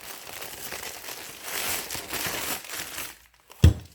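Packaging paper around Mercedes OM617 prechamber and collar tools is crumpled and crinkled in a few rustling bursts, close and fairly soft, then a brief pause and one sharp thump.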